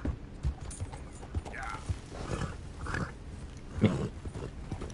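Horse hooves clip-clopping in the Red Dead Redemption video game, a loose, uneven run of hollow clops close by, mixed with scattered rustles and intermittent talk.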